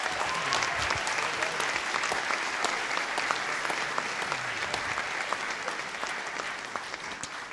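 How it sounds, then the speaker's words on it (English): Audience at a high school holiday band concert applauds, a sustained wash of many hands clapping that stays loud and fairly even, tapering slightly toward the end. "If we could give a round of applause for all those people."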